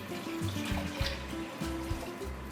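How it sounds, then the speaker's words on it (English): Milk poured all at once into a pan for béchamel white sauce, a brief gurgling, splashing pour with liquid tones, moderately loud and close, no talk over it. "Now I just add all my milk at once."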